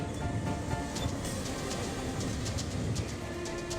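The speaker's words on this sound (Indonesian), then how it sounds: "hingga kereta api melintas, palang pintu perlintasan kereta api di ruas jalan nasional ini ternyata tetap tidak ditutup" A train rumbles steadily past a level crossing on a national road, a loud continuous roar and clatter of wheels with faint rhythmic clicks throughout and no voices.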